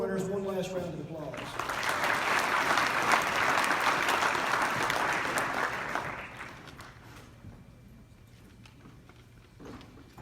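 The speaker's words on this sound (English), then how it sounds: "Let's give all of our award winners one last round of applause." Banquet audience at a Kentucky cattlemen's convention gives a loud, dense round of applause for award winners, swelling quickly and holding steady for several seconds before fading, with a voice speaking briefly at the start.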